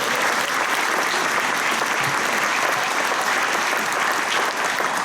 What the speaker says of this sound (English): We couldn't go without giving Molly a big round of applause.